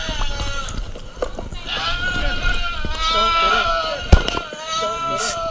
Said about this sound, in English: We'll get the goat up.